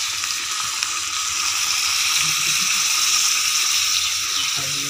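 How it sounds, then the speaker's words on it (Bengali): Hot pre-boiled water is poured into a pot of browned goat-fat chicken curry, a soft steady rush and sizzle lasting a few seconds, close and moderately loud with no talk. "এবার এর মধ্যে আমি আগে থেকে ফুটিয়ে রাখা"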